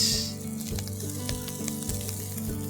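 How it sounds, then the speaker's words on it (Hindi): Leftover rice with sun-dried tomatoes and olives frying in a pan for an Eid dish, a steady close sizzle running throughout with no talking. "अब इसमें डालेंगे हम रात के बचे हुए चावल, रात के राइस"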